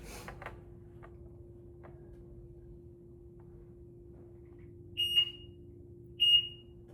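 A tank alarm device sounds two short, sharp electronic beeps a little over a second apart against a quiet room with a faint steady hum.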